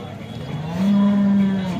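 A five-and-a-half-month pregnant cow moos once at the Alephata cattle market, a single loud, drawn-out low call rising and holding steady over faint market background.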